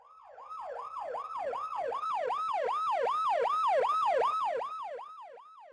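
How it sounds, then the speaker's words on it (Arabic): A loud wailing ambulance siren sweeps up and down in a steady, rapid rhythm, close and continuous, with no voices over it. "بيظهر صوت صفارة فوق لقطات كلوز اب حميمية."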